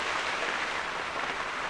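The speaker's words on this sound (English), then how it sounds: "Just want it to rain for about an hour." Steady rain pours down at an off-grid bush camp with a tent shack, a dense, even hiss of drops on surfaces filling the whole short stretch with no talk.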